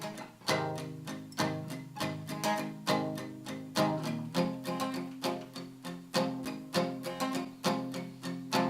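An acoustic guitar plays palm-muted chords in a steady, even rhythm of short, damped strums, close and clear with no talking.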